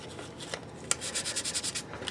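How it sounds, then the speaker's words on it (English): Sandpaper rubbed by hand over a plastic model console gives a few scattered scrapes, then a run of quick rhythmic back-and-forth rasping strokes, close and soft, with no talk. "Sometimes these consoles can be a pain in the butt sometimes to sand down."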